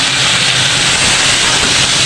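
Fried potato and soybean chunks sizzle in a hot pan, a loud, continuous broadband hiss that holds steady without a break.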